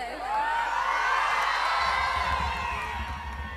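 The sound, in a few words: crowd cheering at Garba festival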